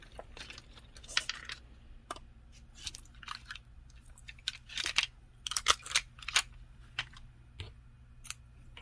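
Scissors snip crochet yarn at the end of a short-stitch and chain round, giving a series of sharp, close clicks and crisp cuts over low background hum, with no talking.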